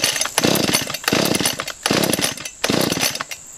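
A chainsaw revs in repeated bursts, roughly three loud surges with short dips between, close and harsh.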